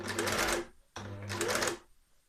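An overlock serger stitching a jacket armhole in fabric runs in two fast, buzzing bursts separated by a short pause, close and loud, with no talking.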